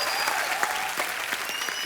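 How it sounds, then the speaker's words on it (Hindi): A studio audience at a Hindi comedy talk show bursts into loud, sustained applause for guests, dense clapping filling the short stretch without pause. "आप एक बार जोरदार तालियां रंजीत साहब, प्रेम साहब और रजा बराज साहब के लिए"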